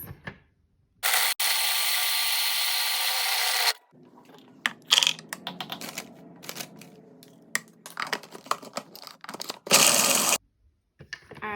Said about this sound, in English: First, we're gonna blend up the dates until they form a sticky mass.